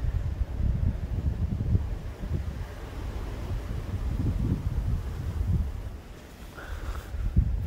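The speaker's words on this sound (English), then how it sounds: "It's bloody freezing in this wind" Cold wind buffets the microphone in the Victorian bush while hunting sambar deer, a steady low rumble with gusty surges throughout, no voices.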